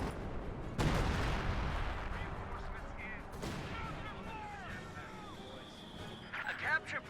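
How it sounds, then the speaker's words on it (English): Artillery fire in Company of Heroes 2, with two sharp loud booms early on and rumbling impacts and battle noise trailing under a commentator's voice. "I hear artillery, but I don't know where"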